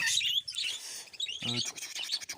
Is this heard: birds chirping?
yes